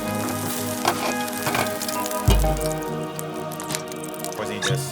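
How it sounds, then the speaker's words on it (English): Rice simmers in a pot on a camp stove, giving a steady bubbling and dripping sizzle with a few sharper pops, close by. People talk over the cooking sound. "we're just gonna go ahead and work on cooking this rice down"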